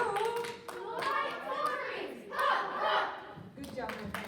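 A group applauds a student, with a burst of close hand clapping mixed with children cheering and shouting as the clapping swells and fades.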